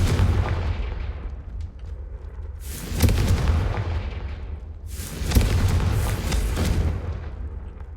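Two heavy explosive blasts from the Confringo spell in Hogwarts Legacy, each a loud booming burst that rolls off into a long fading rumble, spaced a few seconds apart.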